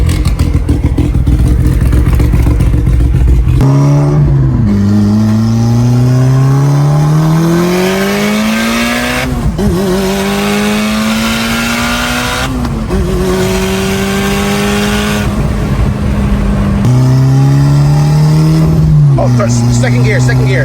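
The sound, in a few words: Mitsubishi Evo car engine revving while being moved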